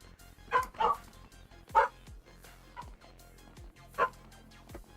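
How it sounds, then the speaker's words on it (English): A loud female dog barks in short bursts, several sharp barks spaced irregularly over a few seconds, with quieter sounds between them. "That dog is barking like crazy."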